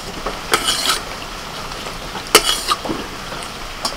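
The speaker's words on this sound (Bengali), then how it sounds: "এই কচুরিগুলো ভাজতে একটু সময় লাগে, এইভাবে তেলটাকে তুলে তুলে দিতে হবে আর একটু কড়া করে ভাজতে হবে।" Kachori deep frying in hot oil as oil is ladled over it, soft bubbling under several sharp metallic clinks and scrapes of a spoon against the pan.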